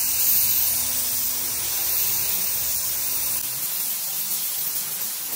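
A spray can applies a second coat of UV primer in a loud, close, continuous hiss that eases slightly toward the end.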